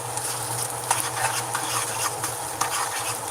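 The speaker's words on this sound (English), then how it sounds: "I'm gonna try to get this cheese to swirl around a little bit." Cheese sauce being stirred into boxed macaroni and cheese in a pot, a steady wet scraping and swishing with faint sizzle and occasional utensil clicks against the pot, close and continuous with no talking.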